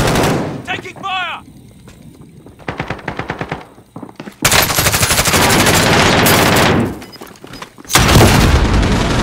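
Gunfire in the battle royale shooter Call of Duty: Modern Warfare Warzone in a quads match, with loud bursts of automatic fire and heavy booms. Sustained volleys cut in and out, and an in-game voice line plays between them.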